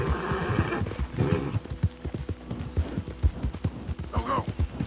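A horse in the video game Red Dead Redemption 2 gallops with a quick, rhythmic clip-clop of hooves, joined by a whinny partway through and again near the end.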